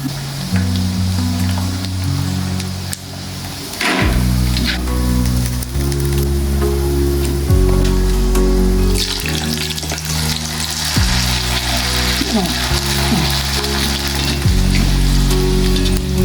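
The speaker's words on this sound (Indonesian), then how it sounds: "Keduanya cukup digoreng saja hingga matang." Crackers and peanuts deep-fry in hot oil with a loud, steady sizzle and crackle that stays close and continuous, and utensils clink and stir now and then.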